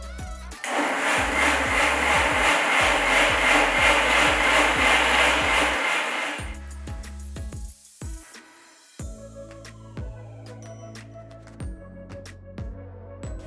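A mixer grinder roars loudly and continuously for about six seconds grinding a mushroom biryani paste, then cuts off, followed by faint clattering.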